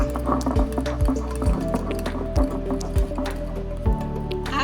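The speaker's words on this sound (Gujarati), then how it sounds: "ને હવે ખૂબ ફેટી લેવાનું છે." Moong dal batter being whisked vigorously in a bowl, wet squelching strokes at a steady rhythm over a constant low hum.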